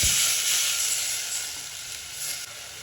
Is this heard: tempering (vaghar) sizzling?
yes